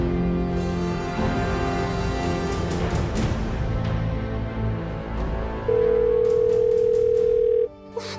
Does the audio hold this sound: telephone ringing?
yes